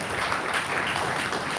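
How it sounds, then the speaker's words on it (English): A crowd at a Lagos health information management celebration gives a brief burst of dense, loud applause, a continuous roaring clatter of clapping that fills the short moment. "So they deserve a round of applause"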